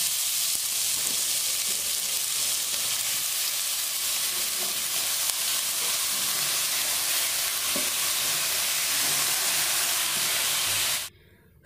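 Chopped vegetables stir-fry in a little oil in a pan over medium-high flame while momos are being prepared, giving a steady, loud broadband sizzle with faint scraping stirs, then cutting off abruptly near the end.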